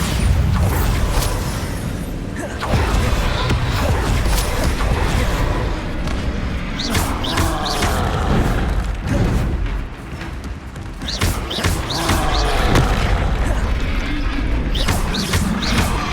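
Bombarda blasting spells exploding in Hogwarts Legacy, loud repeated crashing booms and debris clatter in dense, continuous combat noise.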